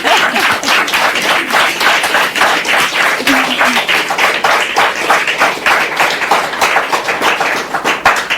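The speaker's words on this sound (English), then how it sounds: "I expected you to clap." A live studio audience claps in a steady, even burst of applause that stays loud and continuous throughout, with no talk over it.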